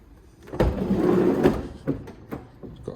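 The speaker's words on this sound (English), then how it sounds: "It's got doors that open." Doors on a roll-caged workshop vehicle with suicide-style doors being opened and shut, several thumps and clunks spaced over a few seconds, close by with a brief rustle between them.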